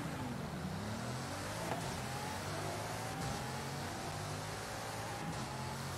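A Bugatti accelerates in the racing game Forza Horizon, its steady engine roar rising in pitch through the gears beneath a constant wash of road and wind noise.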